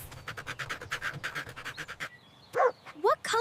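A dog pants in quick rhythmic huffs for about two seconds, then gives a few short, sharp yelping barks close to the microphone.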